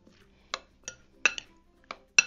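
Utensil clinks against a bowl while a tomato, cucumber and avocado salad dressed with lime juice is stirred: about six sharp, separate clinks, close up and otherwise quiet.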